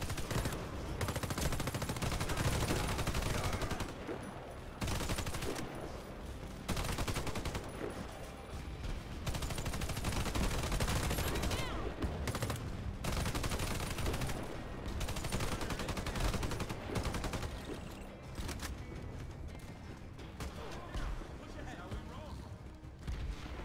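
Sustained turret gunfire in the shooter game Warface, with dense automatic bursts and heavy rattling that continue almost without break and pause only briefly, loud and close.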